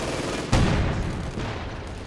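An artillery barrage fires in Company of Heroes 2, a sudden heavy boom landing midway through a dense rumbling battle din that stays loud throughout.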